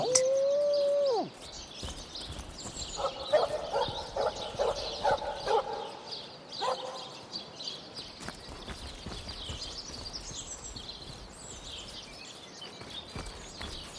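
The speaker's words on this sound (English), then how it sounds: "Looks like that dog is awfully agitated." An agitated dog barks in a short cluster of yaps in the Divinity: Original Sin video game, set against a steady ambient bed of chirping birds, with a brief tonal chime at the very start.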